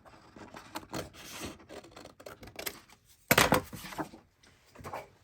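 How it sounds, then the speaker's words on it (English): Large scissors snipping straight through patterned paper scraps for a junk journal, a run of short rasping cuts with a louder burst of snips midway, close and unhurried with no talk. "I'm just going to eyeball it and just straight cut with the big scissors."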